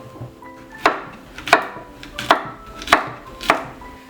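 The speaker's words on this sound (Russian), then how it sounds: "Кабачки нарезали" Zucchini being sliced with a knife on a cutting board, five sharp, evenly spaced chops ringing out clearly and close up with no talk.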